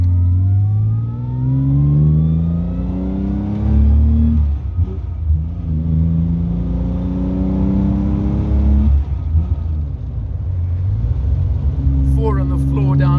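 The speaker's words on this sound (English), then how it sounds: "We're in a 6-cylinder twin overhead cam, magnificent Aston Martin motor." A six-cylinder twin overhead cam engine in a classic Aston Martin DB2/4 MK3 revs repeatedly, rising and falling in pitch close by, with a steady throaty rumble throughout.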